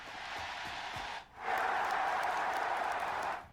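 Applause from a stadium crowd at a gaming tournament as players are knocked out, a broad wash of clapping that dips briefly before surging back louder and holding steady, then fading.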